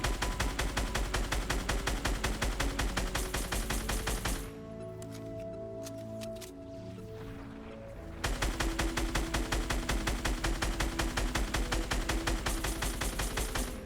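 Rapid automatic fire from an assault rifle and a burst assault rifle in a video game, loud and continuous, broken by a few seconds of quieter tonal game sound before the rattling fire resumes.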